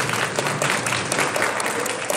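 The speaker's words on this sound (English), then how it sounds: "please give her another huge round of applause" Loud, sustained round of applause from an audience at a house meeting, dense clapping filling the room without pause.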